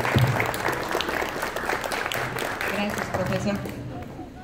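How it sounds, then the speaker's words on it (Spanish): A school audience at a cultural event at Universidad ITEC bursts into sustained applause, dense clapping filling the room close and loud, with voices and cheers mixed in before it thins toward the end. "un aplauso más bien para Daniel en esta nueva empresa"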